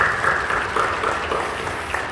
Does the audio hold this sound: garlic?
no